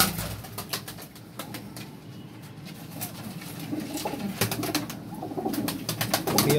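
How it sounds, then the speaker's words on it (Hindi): Flying pigeons cooing close by in a loft, repeated soft throaty coos in an irregular rhythm over a low background hum with some clicks. "माशाल्लाह उड़ने वाले कबूतर हैं"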